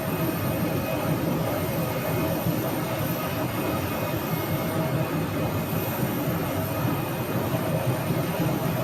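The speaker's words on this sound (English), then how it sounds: "that WestJet plane looks like it went around in a loop, possibly waiting for a gate to become open" WestJet airliner jet engine at Phoenix airport, a steady, broad roar that stays loud and even throughout with no breaks or talking.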